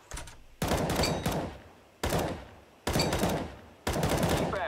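Short bursts of automatic rifle fire in the video game CS-GO, four or five close, loud volleys separated by brief pauses, each ending with a fading tail.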